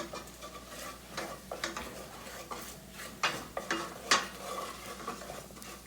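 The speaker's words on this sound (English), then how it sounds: "Going to put in 2 tablespoons of flour now, and just move it around for about a minute. Get a nice roux going." Flour is worked into a roux in a pan on the stove, heard as irregular scraping and tapping strokes of a utensil against the pan over a faint sizzle, close and without talking.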